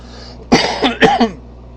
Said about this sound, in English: my cough isn't as bad as it was yesterday